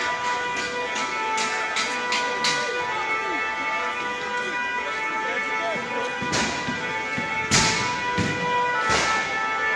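Car tyres and batteries burst in sharp pops that crack out repeatedly over a steady roaring car fire during a Paris yellow vest protest, several close together early and a few louder ones later.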